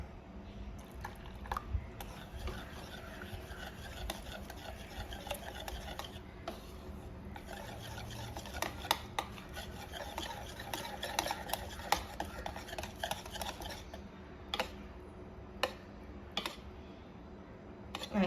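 A sugar mixture for Kerala-style bread is stirred by hand, making a continuous soft, wet, squelching churn with faint scattered taps, close and steady throughout without speech.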